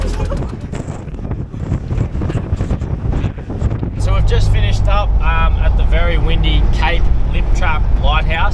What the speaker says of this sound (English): The conditions are pretty wet and windy